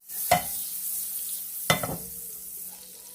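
Two sharp stirring scrapes over a steady sizzle of peppers in a pan, the frying hiss continuing softly between them and fading toward the end.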